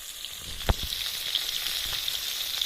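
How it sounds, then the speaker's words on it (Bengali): Steady high hiss of food frying in oil, with a couple of soft low knocks near the start; no voices. "মাছগুলো ভাজা হচ্ছে।"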